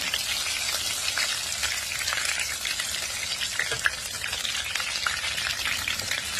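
Small shrimp sizzle steadily in hot oil in a pan at breakfast time, a dense, continuous crackle and hiss with occasional sharper pops, close and fairly loud throughout.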